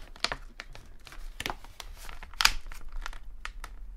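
Pokémon card tripack blister packaging being torn open by hand, with close, loud crinkling and tearing of plastic in irregular bursts across the whole stretch, sharpest midway.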